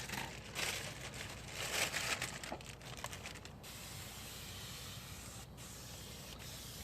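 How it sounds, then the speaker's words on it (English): Steady hiss of a spray bottle misting liquid onto a Tesla Model 3 wheel rim during a rim protector install, continuous with slight surges in the first few seconds, close and moderately quiet, no voices. "Get a little bit more spray."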